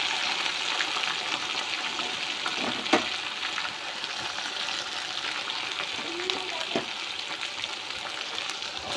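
Onions fry in hot oil with ginger and garlic for a local chicken dish, a steady close sizzle with occasional stirring clinks and brief speech over it.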